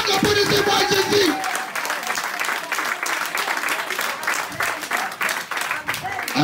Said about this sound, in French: applaudissez-moi Jésus